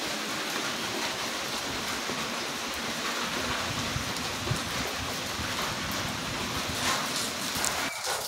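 Early-morning rain falls in a dense, steady hiss, loud and even throughout, with occasional heavier drips and no voices.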